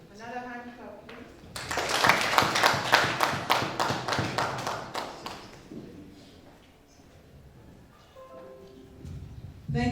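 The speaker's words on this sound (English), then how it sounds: "Another hand clap, please." Audience hand clapping at a training session bursts out loud and close after some speech, a quick run of sharp claps lasting a few seconds before dying back down as talking resumes.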